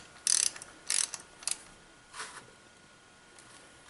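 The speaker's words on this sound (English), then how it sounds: "And then we'll take and run it down snug with a ratchet." Ratchet clicking a spark plug snug in a Ford Edge 3.5L engine, three short bursts of rapid clicks up close, then a softer scrape and quiet.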